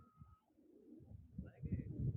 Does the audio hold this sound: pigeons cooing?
yes